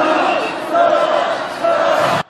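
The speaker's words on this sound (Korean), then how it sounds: "함께 구호 외쳐보겠습니다" Crowd at a Korean street rally chants a political slogan in unison, a loud massed group shout of voices with two swells, close and clear.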